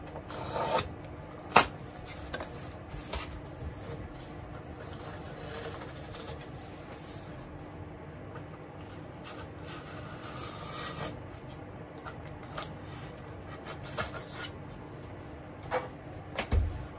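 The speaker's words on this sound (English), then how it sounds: "And what I'm doing is cutting until I find the plywood layer underneath." A blade rasping through model railway trackbed on a layout, cutting down to the plywood layer beneath, with steady close scraping and a few sharper knocks and clicks.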